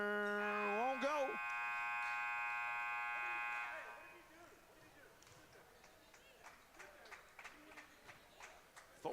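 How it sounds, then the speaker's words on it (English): A game buzzer sounds loud and sustained for several seconds in a college men's basketball gym. After it stops, quieter footsteps, shoe squeaks and crowd murmur continue. "at the buzzer, won't go"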